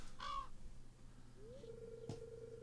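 Crows cawing in the farming game Stardew Valley Expanded, a couple of harsh caws followed by a sustained bird call, faint over a low background hum.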